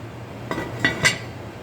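Metal lid placed onto a pot of simmering beef chili, giving three quick clinks and clatters close to the listener over a low hum.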